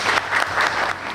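A lecture audience applauds to welcome a speaker to a distance-education keynote, steady dense clapping from a crowd with gentle swells, heard alone without voices.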